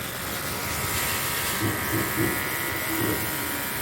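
A mini 12V DC jet cleaner pump runs with a steady buzzing motor hum while spraying water outdoors, a continuous near drone with a person talking over it.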